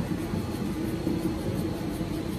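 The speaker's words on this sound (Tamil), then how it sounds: "இப்படி கேட்டுச்சுன்னா வந்து பேரிங் போயிருச்சுன்னு அர்த்தம்" A worn rear wheel bearing on a jacked-up car grinds and rumbles steadily as the tyre is spun by hand, a continuous low rolling drone recorded up close with no talk.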